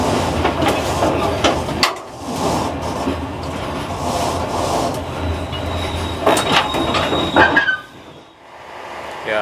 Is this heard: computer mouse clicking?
no